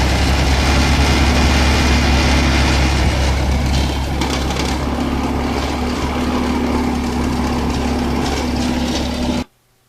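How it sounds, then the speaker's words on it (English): A Land Rover Series 3 Lightweight engine runs continuously during restoration, a loud close rumbling idle with a steady low hum that sounds in need of work, then cuts off abruptly at the end. "you can tell by the sound of the engine it needs a bit of work, but it does run"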